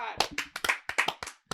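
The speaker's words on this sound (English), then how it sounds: "Clap it up for Chow for sharing his story" An audience in a podcast studio clapping, a quick, irregular run of about a dozen close, sharp hand claps, with voices talking over them.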